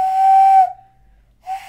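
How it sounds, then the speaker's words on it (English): A person whistles with cupped hands, giving a loud, clear, steady tone that holds for about half a second, then a second short whistle follows after a brief pause, with no talking. "I can whistle with my hands"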